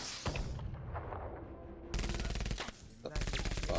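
Rapid bursts of automatic gunfire in a video game, loud and close, crackling in two or three dense volleys separated by a brief lull.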